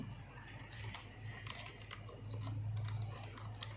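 A command is typed into a message box on a computer keyboard, producing quick, irregular key clicks at close range over a faint steady low hum.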